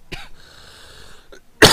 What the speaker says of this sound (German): Entschuldigung, der Husten ist immer noch da.